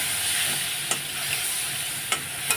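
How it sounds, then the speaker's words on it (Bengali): Spices braise with a little water in a pan for rohu fish curry, giving a steady, close hiss and sizzle broken by two sharp clicks from a stirring spoon. "অল্প একটু জল দিয়ে দিয়েছি জল দিয়ে এখন একটু কষিয়ে নেব"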